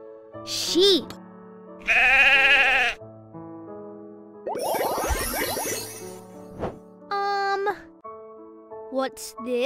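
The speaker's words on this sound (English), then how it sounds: "Sheep." Sheep bleating from a toddler first-words education app game on Android, several loud, clear bleats spread through the clip, mixed with short app sound effects and a spoken word announced between them.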